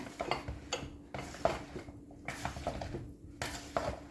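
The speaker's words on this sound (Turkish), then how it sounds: "Şimdi bunları güzelce karıştıracağım hepsini." A spoon clinks and scrapes against a bowl while potato salad dressed with pickle brine is stirred, giving repeated close, irregular clatters with soft squishy pauses between them.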